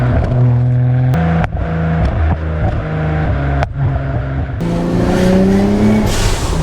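Nissan R32 GT-R engine revving hard with steady harmonic drone, rising pitch through gears and brief gaps at shifts, loud and close with echo off surrounding buildings.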